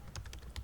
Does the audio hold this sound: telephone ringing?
no